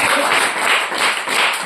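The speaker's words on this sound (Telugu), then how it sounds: "కొట్టు చప్పట్లు గట్టిగా" Loud clapping from an audience at a Telugu Christian sermon, a dense steady burst of many hands with no voice over it.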